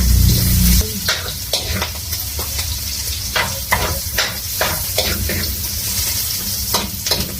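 Spices fry in hot oil in a pan while a utensil stirs them, giving a steady sizzle broken by repeated scraping strokes, close up and with no talking.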